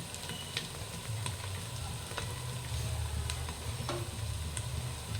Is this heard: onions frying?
yes